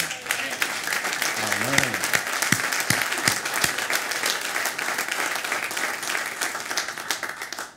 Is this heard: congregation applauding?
yes